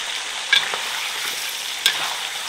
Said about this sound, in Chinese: 稍微多炒一下哈，把那个猪蹄里面的油给它煸炒出来